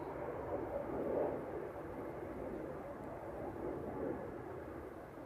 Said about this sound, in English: the 747 is doing a really odd taxi